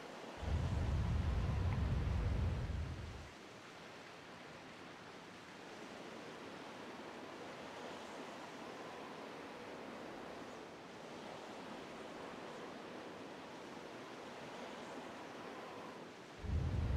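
Rushing water from an unclogged spring rising in Zelda: The Wind Waker HD, opening with a loud low surge for a few seconds, then settling into a steady broad wash like surf, with another heavy surge at the end; no talk.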